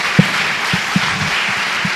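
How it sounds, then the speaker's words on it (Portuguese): Congregation clapping in applause during a church sermon, a steady wash of many hands with a few louder claps standing out, fairly close and without talk. "Dê uma salva de palmas ao Senhor."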